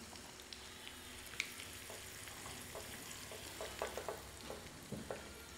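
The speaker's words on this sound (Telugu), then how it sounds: "నెయ్యిలో వెల్లుల్లి రెబ్బల్ని లైట్గా ఫ్రై చేసుకోండి" Garlic cloves frying lightly in ghee for a spinach dal tempering, a steady soft sizzle throughout with occasional stirring clicks and small crackles, close and continuous without talk.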